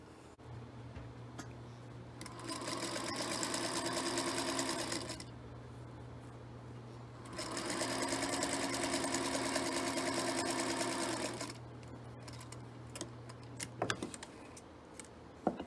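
A sewing machine stitches quilt pieces together in two long, steady runs of several seconds each, with a quiet pause between, then a few clicks and handling taps at the end.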